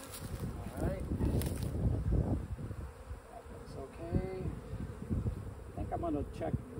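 Honey bees buzz steadily around a Layens hive, a dense droning hum with individual insects whining past up close.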